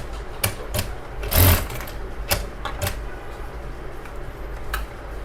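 A sewing machine stitches the side seam of a kids' lehenga during an alteration, running in short, uneven bursts of rapid mechanical ticking close by, with a louder surge near the start and quieter pauses between.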